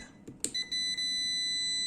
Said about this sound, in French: Maintenant, on va mesurer. Il va faire un bip.